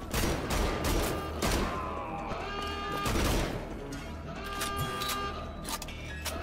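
Gunfire bursts from the video game Wolfenstein: The Old Blood come in a loud, dense volley of overlapping shots that ease off and then flare again.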